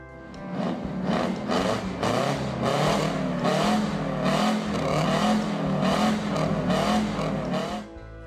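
A loud diesel truck engine, the 92, roars close by and revs up repeatedly in a series of surging pulls, its deep growl rising and falling several times.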